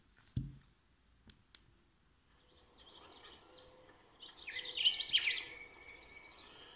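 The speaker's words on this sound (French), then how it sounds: "les oiseaux." Recorded birdsong played back as a nature-sound track on a Morphée Box relaxation device: faint sparse clicks at first, then soft high chirps and warbling that swell toward the end, quiet and gentle.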